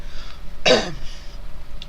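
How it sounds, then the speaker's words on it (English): A single short, rough throat clearing near the middle, close and fairly loud, with quiet room tone around it. "excuse me for clearing my throat"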